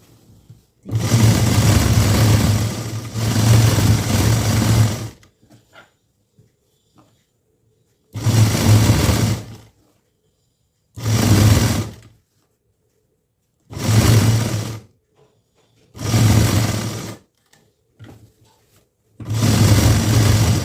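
Sewing machine stitching a blouse lining runs in six separate bursts, each lasting one to four seconds, with quiet pauses between them. The motor is close and fairly loud, and there is no talk.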